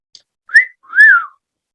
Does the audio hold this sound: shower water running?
no